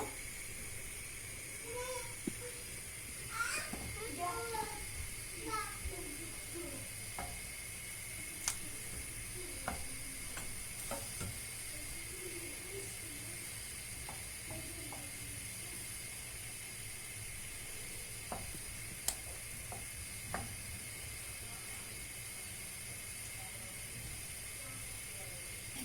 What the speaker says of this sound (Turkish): Böyle 5 dakika kaynatacağım.